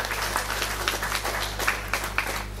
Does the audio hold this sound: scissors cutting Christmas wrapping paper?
no